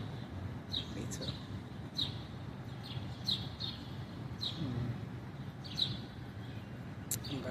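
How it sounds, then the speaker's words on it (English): Small birds chirp in brief, scattered high tweets over a low, rumbling outdoor background, some calls close together, others spaced apart. "Hear the birds?"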